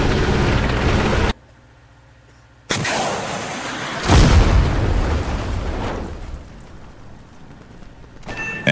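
Loud simulated battle blasts from an NLAW anti-tank missile launch and its hit on a ZBD armored vehicle's upper side armor: a sharp burst, a short silence, then a heavy booming impact that rumbles and fades.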